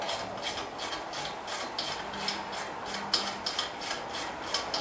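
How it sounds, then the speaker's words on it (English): A ratchet tightening the brake caliper bolts on a 2008 Toyota Highlander, giving quick repeated clicking and rasping strokes heard up close and fairly faint. "you grab your ratchet, and tighten the bolts up, holding the brake pads in so they don't pop out."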